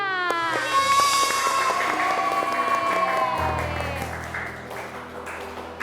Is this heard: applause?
yes